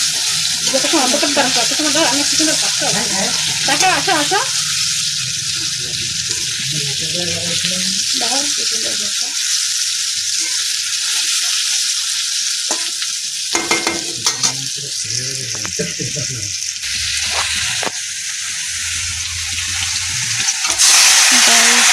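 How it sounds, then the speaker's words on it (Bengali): Potatoes sizzle steadily as they fry in a pan and are stirred now and then, giving loud continuous frying crackle with scraping stir sounds and no talking. "আমি আলুটা যতক্ষণ লাল লাল হচ্ছে ততক্ষণ ভাজবো।"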